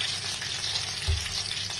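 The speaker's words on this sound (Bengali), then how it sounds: "সব এরকম করে লাল করে ভেজে নিচ্ছি।" Eggplant slices fry in oil in a pan while fish is prepared, giving a steady, close sizzle with a soft low thump near the middle and no voices.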